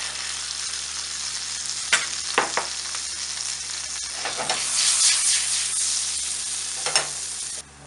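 Garlic sizzles in hot butter in a pan with a loud, close, continuous hiss, punctuated by a few sharp spatula scrapes and bursts of crackling spatter partway through.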